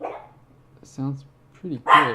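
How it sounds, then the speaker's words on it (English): A dog barks a few times nearby, short sharp yaps mixed with a person speaking briefly. "Okay, that's my dog."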